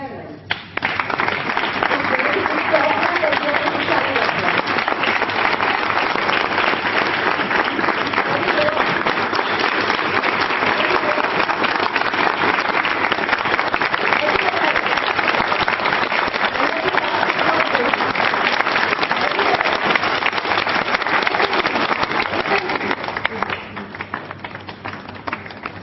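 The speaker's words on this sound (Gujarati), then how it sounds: "તાળીઓ વગાડવાની" Sustained applause from a convention audience, a dense roar of many hands clapping steadily for over twenty seconds before tapering off near the end.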